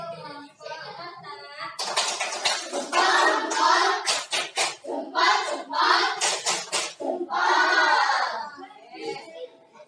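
A primary school class in Indonesia gives a group rhythmic clapping applause, with dense hand claps in bursts over several seconds, loud and close, with children's voices mixed in.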